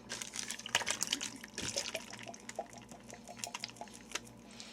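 Canned Rotel diced tomatoes with green chilies, hot habanero style, sliding and splashing from the can into a crockpot, a wet, dripping pour with soft plops and clinks, fairly close and moderately quiet, no talking.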